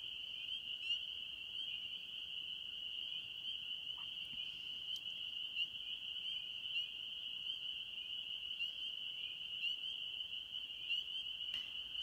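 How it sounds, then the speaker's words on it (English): A dense, continuous chorus of high-pitched peeping spring peeper frogs, steady and shrill, with no talking. "Thousands, tens of thousands of frogs."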